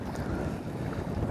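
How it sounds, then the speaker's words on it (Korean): Wind buffets and rushes steadily over the microphone on a boat on the Yeongsan River during bass fishing, a dense broadband roar with faint water sounds and no talking. "바람이 불어서"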